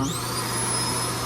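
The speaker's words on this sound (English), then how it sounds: "It has a built-in vacuum." Built-in vacuum of a 2025 Forest River R-Pod RP 203 travel trailer running as a steady, close, loud whine with a constant hum, holding evenly for the whole moment without pauses.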